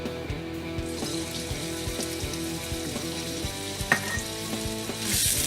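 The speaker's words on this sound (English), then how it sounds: "now we can now place our bacon in" Bacon sizzling in hot oil in a pan, a steady crackling fry with occasional louder pops and spatters, close up, without anyone speaking.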